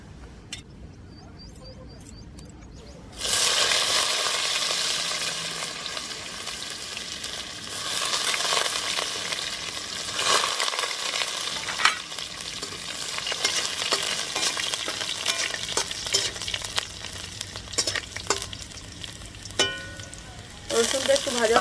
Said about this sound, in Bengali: রসুনটা একটু ভাজা ভাজা হয়ে গেছে